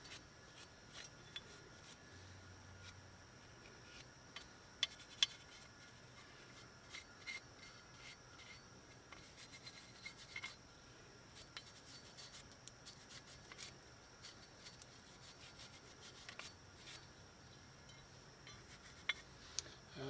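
Brake clip seats on a 1996-2000 Honda Civic front brake get scrubbed with a brush, quiet repeated rubbing strokes with occasional small metallic ticks, close up and faint, with no talking.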